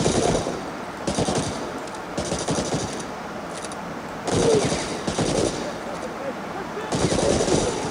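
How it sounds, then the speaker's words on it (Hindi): Rapid automatic gunfire rattles in repeated bursts in Medal of Honor: Allied Assault, a World War II shooter set in a snowy level, loud and close, with a voice talking between the volleys. "ओ फिर से पीछे से किसने गोली मारी"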